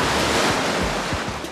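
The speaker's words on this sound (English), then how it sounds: "The waves were very loud" Loud ocean surf crashes and roars continuously against rocks at a beach during a swimsuit photo shoot, with strong wind buffeting the microphone and no voices.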